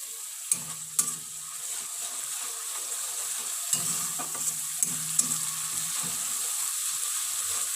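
Onion and ginger-garlic paste frying in a pan for a Bengali chickpea curry, a steady close sizzle broken by several scraping stirs and clacks of a spoon.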